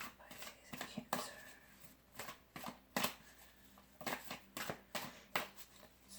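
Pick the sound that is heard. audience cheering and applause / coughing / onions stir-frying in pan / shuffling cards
shuffling cards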